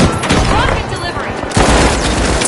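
Loud video game combat with a rocket launching and exploding amid dense rapid gunfire, a continuous barrage with a fresh burst partway through.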